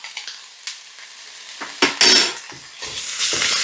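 Soup being stirred in a pot after salt and black pepper go in: intermittent spoon scrapes and clinks against the metal, with a sizzling wash building toward the end, close and fairly loud.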